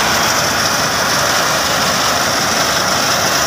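A tractor engine drives a thresher during sesame harvesting, a loud steady mechanical roar with broadband machine noise held evenly throughout, close by and with no talk over it.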